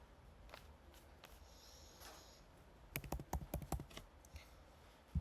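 Fingers tapping on a computer keyboard, a few scattered clicks and then a quick run of sharp, close keystrokes in a quiet room.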